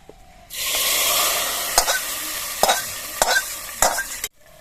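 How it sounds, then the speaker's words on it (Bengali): Hot spiced oil poured into a cooking pot for plain white khichuri, bursting into a loud, sustained sizzle and hiss with several sharp crackles and spits before cutting off abruptly. "এবার এই তেলটা আমি হাড়ির মধ্যে ঢেলে দিতে দিচ্ছি"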